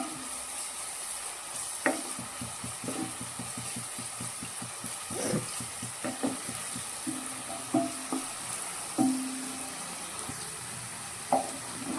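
Onions frying in plenty of oil for dhaba-style tomato gojju produce a continuous close sizzle, broken by repeated scraping and clinking stirs of a spoon against the pan, with no voices.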